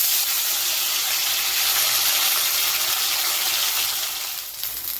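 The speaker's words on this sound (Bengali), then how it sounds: "এবার এই বাকি ম্যারিনেটেড ফুলকপিগুলোকেও আমরা তেলের মধ্যে ফ্রাই করে নেব।" Marinated cauliflower pieces deep-frying in hot oil for chilli gobi, a steady close hiss and sizzle that holds throughout and eases slightly near the end, with no talking.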